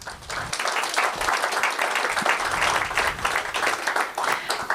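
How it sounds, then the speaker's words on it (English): Audience applause for the Elks Club fills the room, a dense, steady wash of many hands clapping at moderate loudness throughout, with no voices breaking through. "So would you join me in a round of applause for the Elks Club?"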